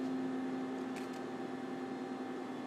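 A sewing machine stitches a blouse seam, a steady, even electric hum and whir holding at one level throughout, close and moderately loud.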